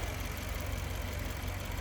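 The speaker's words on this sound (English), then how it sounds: "as you can tell, smooth running engine. Sounds as it should." The twin-turbo 4.4-liter V8 of a 2014 BMW 650i Convertible idles smoothly in the engine bay, a close, steady low rumble with an even, continuous pulse and no other sounds.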